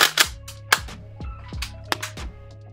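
A Dinosquad pump-action toy blaster fires repeatedly, loud sharp close cracks each followed by a springy rattle, about half a dozen shots in uneven succession.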